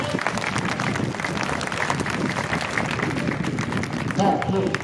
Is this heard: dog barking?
no